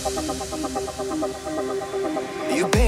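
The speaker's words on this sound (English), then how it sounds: "rock-ish kind of drums to that" Rock-style drum beat inside a dense pop-rock song mix, steady pulsing hits under sustained chords, ending in a sharp crash.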